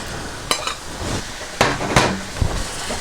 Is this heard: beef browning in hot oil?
yes